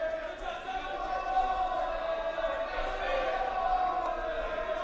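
Spectators at a Loras College versus Central College wrestling match shout and roar in a steady, dense din that rises and falls, with voices talking over the noise.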